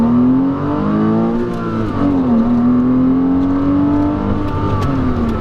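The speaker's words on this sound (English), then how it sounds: "gonna go ahead and just roll into the gas and see how the car gets up to speed" A 2008 Porsche Boxster accelerates hard in first gear, its engine note climbing steadily in pitch, dropping briefly, then rising again, loud and close without talk.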